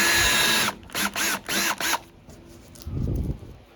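Power drill enlarging a small rust hole in the fender of a Porsche 914, with four short bursts of whirring close by, then a brief rougher grinding rumble afterward.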